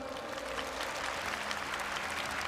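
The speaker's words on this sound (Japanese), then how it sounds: "拍手お願いします。" Audience clapping at a fan festival event, a dense sustained round of applause heard fairly close and steady throughout, with no voices standing out.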